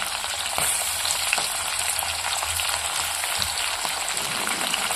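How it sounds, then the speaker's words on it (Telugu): Tomato pieces fry with curry leaves in hot oil while a ginger chutney is being made, giving a loud, constant crackling sizzle like heavy rain, with occasional spoon scrapes and no voices. "ఇలా అన్నిటికి వచ్చిన తర్వాత టమాటా ముక్కలు కూడా వేసుకోవాలండి"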